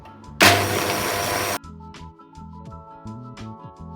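A kitchen blender whizzes coffee into cupcake batter in one loud burst of about a second, then stops, leaving quieter clinks and scraping.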